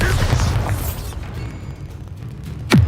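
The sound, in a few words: Bombarda blasting spell explosion in the video game Hogwarts Legacy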